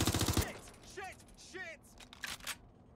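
Rapid bursts of gunfire from the video game Watch Dogs Legion open loudly, then give way to quieter whooshing effects and scattered sharp cracks, with a voice murmuring softly among them.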